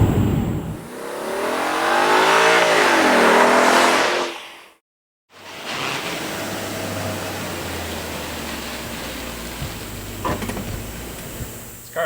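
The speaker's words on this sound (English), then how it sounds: "Listen to that V8 roar." A Volkswagen Phaeton V8 revs up with a rising, sweeping roar and breaks off into a brief silence. A steady, rumbling idle follows with faint broadband hiss, close to the car.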